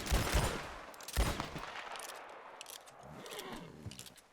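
Schofield revolver fired in Red Dead Redemption 2 with a first-person mod, several loud shots with echoing tails, two sharp reports early followed by fainter cracks and scraping, no talk.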